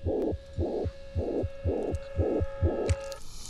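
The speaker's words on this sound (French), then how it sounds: "C'est un battement de cœur, le même que précédemment quand il était encore attaché à la perfusion." A heartbeat effect from Mad Max: Fury Road plays six deep, even double thumps in steady rhythm, backed by a constant low tonal hum.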